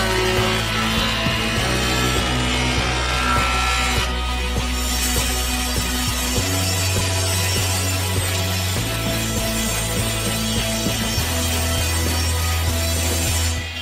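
A band saw runs through wood panels with a steady motor hum. The tone drops in pitch as each cut loads the blade, and fine rasping and ticking follow the blade through the wood.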